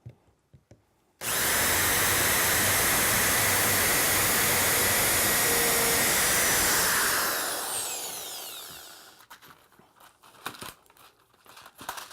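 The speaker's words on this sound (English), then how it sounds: "Put a little bit of pressure on there so that it won't move around when you start your drill." A power drill whirs loudly and steadily into wood for several seconds while building a birdhouse, then winds down, followed by scattered quiet handling noises.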